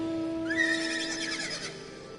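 A horse mount in Final Fantasy XIV gives a single clear, rising then falling whinny lasting about a second, heard alone over a soft, steady game music drone.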